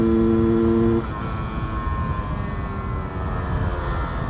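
A Yamaha F1ZR motorcycle engine revs with a steady buzzing tone, then the pitch falls during a gear shift and the engine keeps running at lower revs, close and loud.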